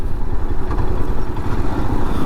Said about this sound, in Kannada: ಈಗ ಸುಜುಕಿ ಗಿಕ್ಸರ್ SF ಓಡಿಸ್ತಾ ಇದ್ದೀನಿ